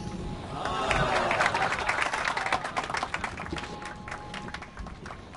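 A crowd claps in the video game Blues and Bullets, a dense, rising patter of many hands that swells early then thins slightly while staying steady to the end.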